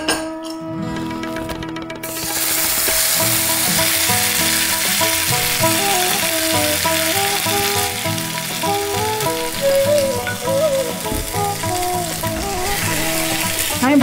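Spice paste frying hard in a hot pan, a loud continuous sizzle breaking out after a brief quiet start, with stirring scrapes running through it.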